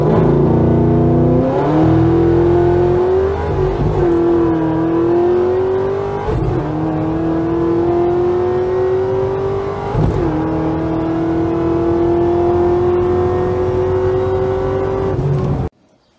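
A Chevrolet Camaro ZL1 drives and accelerates, its engine note climbing through repeated gear pulls, loud and close from the cabin, then cutting off abruptly near the end.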